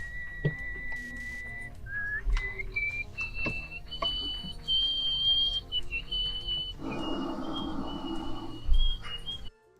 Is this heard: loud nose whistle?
yes